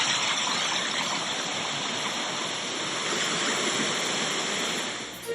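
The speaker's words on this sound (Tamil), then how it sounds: "மலைப்பகுதிகளில் பெய்த மழையால் நெல்லை மாவட்டம் களக்காடு தலையணையில் வெள்ளம் பெருக்கெடுத்து ஓடுகிறது" Flood water roars through Kalakkad Thalaiyanai falls in Nellai district after heavy rain in the hills, a loud, steady, unbroken rush of churning water close by with no voices.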